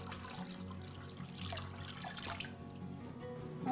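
Water poured into a pot for a giardiniera pickle brine, a steady splashing and trickling stream, close and moderately loud, running continuously with slight swells.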